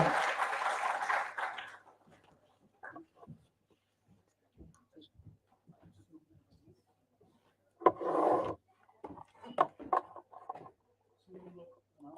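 Audience applause welcoming a professor to the podium at a career days opening ceremony, a burst of clapping that fades within two seconds, followed by quiet room noise and scattered shuffling, then someone speaking at the lectern.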